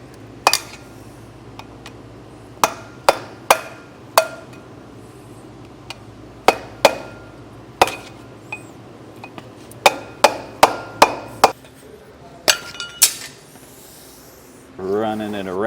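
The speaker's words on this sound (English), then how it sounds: "we're just gonna kind of beat down on our grease seal" Sharp metallic hammer blows on a flathead screwdriver driven against a trailer hub's grease seal, about a dozen irregular close taps with gaps between them, followed by a brief rustle at the end.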